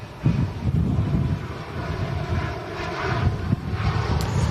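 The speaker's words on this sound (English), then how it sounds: "This will be the last takeoff of the show today." Boeing 747 airliner taking off at an airport, a steady broad engine roar with wind buffeting, sustained and fairly loud throughout.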